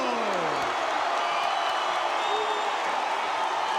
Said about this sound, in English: this crowd has erupted here